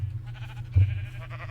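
A Minecraft sheep bleats once, a short wavering call in the middle, over a low steady game hum.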